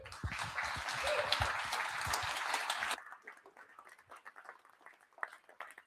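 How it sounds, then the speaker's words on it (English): Audience applause at an Omaha REIA real estate investors evening meeting, welcoming speaker Andrew Devlin: a dense, steady wash of clapping for about three seconds that stops abruptly, leaving a few faint scattered sounds. "give a huge Omaha REIA applause to Andrew Devlin"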